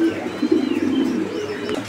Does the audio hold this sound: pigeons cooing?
yes